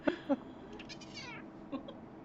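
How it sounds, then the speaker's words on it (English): A pet cat meows several times, with short, close cries near the start, a longer drawn-out wavering meow in the middle and one more brief mew toward the end. "Was that you or your cat making those noises? Yes, it's my cat."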